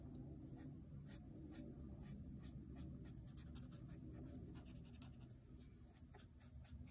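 A pen inking a werewolf comic book page, producing a steady close scratching on paper with quick repeated strokes over a constant low background hum.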